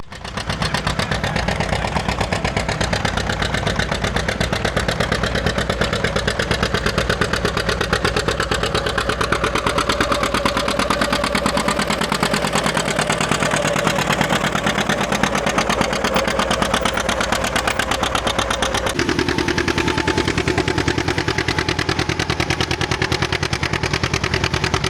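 An old antique John Deere G tractor engine running at an agricultural show, a steady close chugging rhythm of rapid firing pulses that holds for the whole stretch and shifts pitch near the end, with no talking over it.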